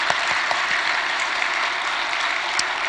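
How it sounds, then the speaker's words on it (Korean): Church congregation applauding children after their worship songs and prayers, a continuous even wash of many hands clapping, steady and moderately loud throughout. "우리 박수 한번 하겠습니다"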